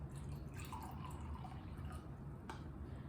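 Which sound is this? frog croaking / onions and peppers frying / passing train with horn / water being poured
water being poured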